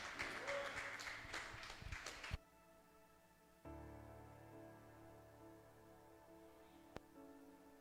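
Applause at a church service fills the first couple of seconds with brisk clapping, then cuts off and gives way to sustained, quiet keyboard or organ-like tones with one sharp click later.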